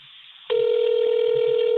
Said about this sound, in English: Oh, we're getting rings.